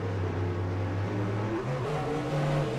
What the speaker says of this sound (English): You heard him getting the throttle, then he backed back out of the throttle because he lost the front end.